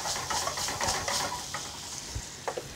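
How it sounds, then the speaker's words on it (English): Tomatoes being squashed and stirred in a sizzling pan for amatriciana sauce, with a constant bright fry hiss, soft scraping and occasional clinks of a utensil against the pan, close up with no voices. "Just squash the tomatoes,"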